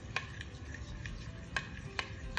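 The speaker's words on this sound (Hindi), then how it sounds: "इसको मैं ऐसे कंटिन्यूसली स्टर करती रहूँगी तो ये चॉकलेट भी मेल्ट हो जाएगी" A spoon stirs chocolate pieces melting into custard, giving soft faint scrapes and a few distinct taps against the pan over a low simmering hiss.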